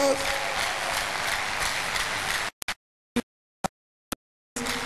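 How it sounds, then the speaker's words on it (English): Dense crowd clapping at an outdoor religious crusade fills the first half, then cuts to near silence broken by a few short bursts before the clapping resumes at the end. "A big clap offering to Jesus."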